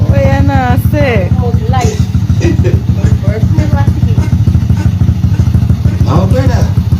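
A motorcycle engine runs steadily nearby with a low throbbing idle throughout, while someone talks over it.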